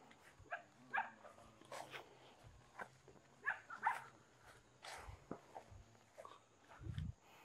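A dog barks a few short times at a quiet home, the barks faint and spaced out, with soft footsteps and light rustling between them.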